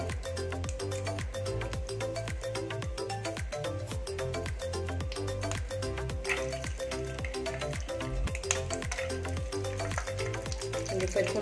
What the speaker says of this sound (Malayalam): നമുക്ക് കുറച്ച് അണ്ടിപ്പരിപ്പ് മുന്തിരി അതിലിട്ടിട്ടൊന്ന് ഫ്രൈ ചെയ്തെടുക്കാം